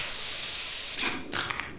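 Steam hisses from a pipe in the video game Lethal Company, a steady broad rush that swells into two louder bursts near the end.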